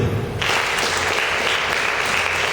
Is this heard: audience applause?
yes